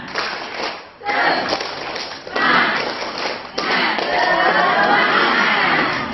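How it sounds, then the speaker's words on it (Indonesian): A group of Diniyyah Al Azhar teachers performs a rhythmic spirit clap, with bursts of clapping and thumping separated by brief pauses and lively group voices throughout. "Namanya penuh semangat kita tepuk semangat dulu."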